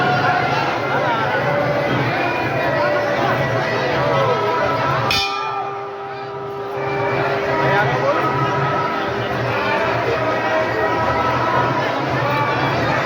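Dense crowd babble and shuffling at a busy Hindu temple during a fair, with bells ringing amid the noise; a brief hush around the middle before the throng swells back, loud and continuous.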